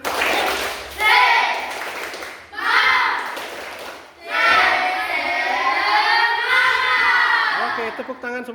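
Schoolchildren in a classroom repeat a rhythmic spirit clap, bursts of hand claps blended with loud chanting and shouting voices, coming in several close, energetic waves.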